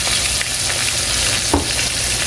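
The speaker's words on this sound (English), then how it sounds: "I may have to fry this in 2 batches." Chicken frying in hot oil in a home kitchen, a steady loud sizzle and crackle that fills the whole stretch, with a brief clatter near the end and no voices.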